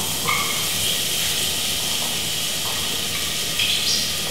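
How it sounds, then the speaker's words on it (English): Chopped onions dropped into hot oil for stuffed pasta shells give a steady, close hiss and sizzle that runs through the whole stretch, with a few faint clinks and no talking. "I'm gonna go ahead and add it to my hot oil"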